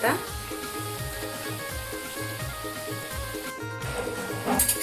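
Kothambir vade, coriander fritters shaped into small balls and turned partway through, fry over a low flame in a soft, continuous sizzle with a rhythmic background hum, and brief louder clatters near the end.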